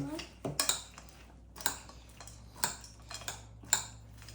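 A spoon stirs sisig dressed with lemon juice in a pan, sharp metallic clinks and scrapes landing in an irregular series of about eight strikes over a low steady hum.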